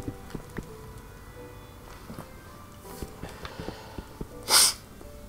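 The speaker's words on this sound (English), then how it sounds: "Trying to stifle a sneeze so I don't blow out your eardrums." A single stifled sneeze bursts out near the end, short and muffled, over a quiet background dotted with faint scattered clicks.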